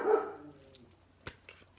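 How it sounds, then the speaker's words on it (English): A dog named Liana barks, one loud close bark at the start followed by a few fainter, sharp yips spaced apart against a quiet room. "Fucking dog."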